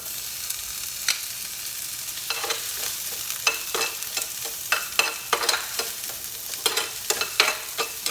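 Garlic and onion sautéing in a pan with a little oil hiss steadily up close, while sharp spatula scrapes and clacks come faster and louder toward the end.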